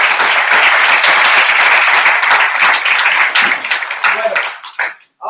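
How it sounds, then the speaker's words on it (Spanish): Audience at a training session breaks into sustained applause, dense and loud clapping that holds steady for several seconds before tapering off and stopping abruptly near the end. "un aplauso para ellos."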